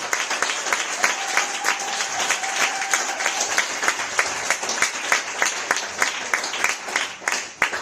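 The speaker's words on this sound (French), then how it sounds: "Merci de l'accueillir avec vos applaudissements." A crowd applauds a singer and filmmaker as he is welcomed on stage, sustained even clapping from many hands with some sharper individual claps standing out and a faint murmur beneath.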